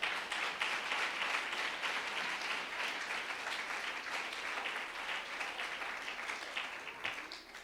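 A church congregation applauds during a New Year sermon, a dense, steady crowd clapping that stays fairly loud and even for several seconds before tapering slightly at the end, with no talking over it.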